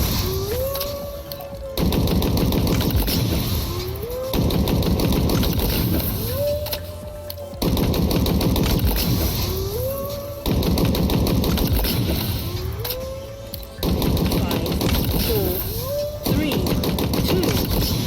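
BR75 and VK78 Commando rifles fire in the Halo video game, with sustained rapid bursts of loud gunfire under a recurring rising electronic whoop, the shooting broken by brief gaps.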